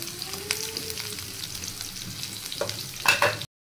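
Finely chopped onion fries in a pan with a soft, steady sizzle and light spatula scrapes, ending in a brief burst of louder stirring, close and with no talking.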